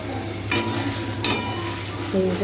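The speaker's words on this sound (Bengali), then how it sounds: "পনিরটা কড়াইতে দিয়ে দিয়েছি সাদা তেলের মধ্যে এবার এটাকে একটুখানি হালকা হালকা করে ভেজে" Paneer frying in white oil in a kadai gives a steady sizzle with two short scraping bursts from stirring and a slight rise near the end, with no talk.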